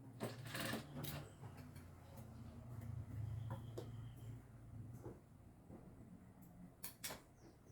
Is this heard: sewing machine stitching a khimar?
yes